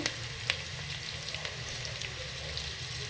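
Green chillies added to golden-brown onions frying in oil for a jackfruit biryani give a steady close sizzle with a few sharp crackles and pops, no voices.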